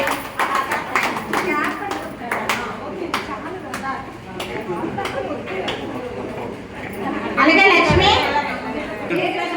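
Schoolchildren at a training-day certificate ceremony clap in a scattered burst, sharp overlapping claps at first, then a louder swell of applause near the end, with someone speaking over it.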